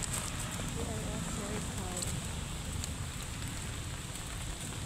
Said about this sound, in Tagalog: Umuulan kasi dito guys.